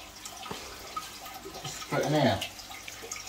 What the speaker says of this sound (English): Then I'd use some of this tank water.